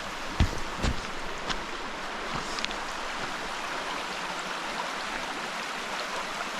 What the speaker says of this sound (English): There's a little waterfall as well.